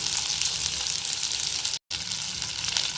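Two green chilies fry in melted butter for paneer butter masala, a dense, even sizzling hiss close up that cuts out for a split second midway, then resumes just as strong.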